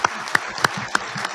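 At a Marine Corps installations and logistics awards dinner, a few distinct, evenly spaced claps ring out against a quiet room, sparse and fairly faint rather than a full ovation.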